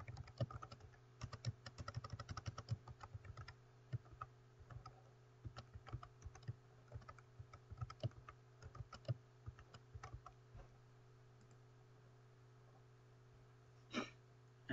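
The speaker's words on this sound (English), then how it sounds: "Let me type in a password." Password typed on a computer keyboard at a desk: a steady run of quiet, close key clicks for about ten seconds, then a pause and one louder tap near the end, with a low electrical hum underneath.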